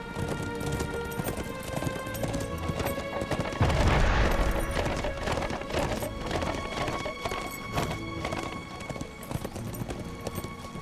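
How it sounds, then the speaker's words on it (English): Massed war steeds of a player army thunder past in Lord of the Rings Online, a dense continuous clatter of hooves with a louder surge in the middle, the rumbling mass holding steady throughout. "we'll scare everybody as a giant army of horses ride by"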